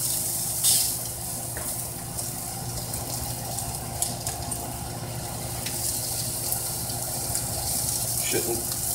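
Nacho topping cooks in a hot pan, sizzling as a steady crackling hiss with a few brief clinks and stirring scrapes, close and moderately loud.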